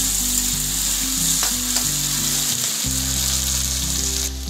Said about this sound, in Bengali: কাঁচা লঙ্কা দিয়ে আমি ভালো করে পেঁয়াজগুলোকে ভেজে নেব